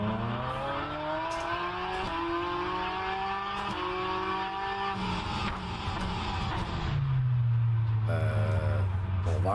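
A hypercar in the rFactor2 racing sim screams up through the gears, loud sustained engine tones climbing with sharp shift breaks, then a deeper drone as it slows, with brief tyre noise near the end.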